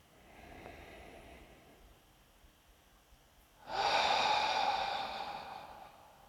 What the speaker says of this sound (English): start to take some deep breaths down into the belly and into the chest